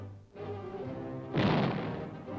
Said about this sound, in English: Guns, large or small, targets a floater in the air.